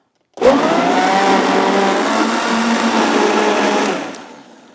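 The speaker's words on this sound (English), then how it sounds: "The blender does that for us." A blender blending a green smoothie whirs loudly and steadily for about four seconds, starting abruptly and winding down at the end, with no talking.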